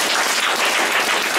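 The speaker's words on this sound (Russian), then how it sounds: "Аплодисменты." Audience clapping at a training event, dense and even for a brief moment, close and fairly loud with no talking.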